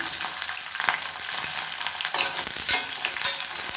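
Shallots, garlic, mustard seeds and curry leaves fry in hot oil with a dense, steady sizzle, crackling pops and the occasional scrape of a stirring spoon, heard up close.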